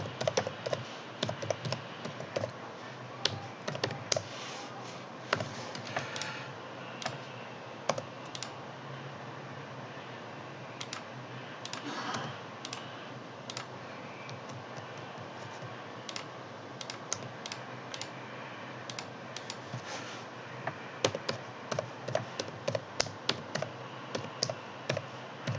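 Fingers type on a computer keyboard in quick bursts of close clicking keystrokes, with short pauses between runs, against a faint steady background hiss.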